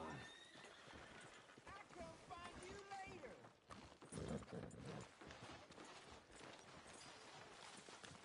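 Horse hooves clip-clop in Red Dead Redemption 2 as a rider moves along a town street, a steady rhythmic clatter with a snort or whinny, heard under game characters talking and background ambience.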